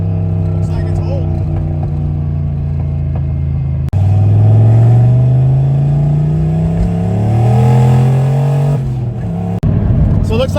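Close, loud engine of a boosted modified car revving at full throttle, pitch climbing and sweeping through gear changes, with a brief speaking voice early on.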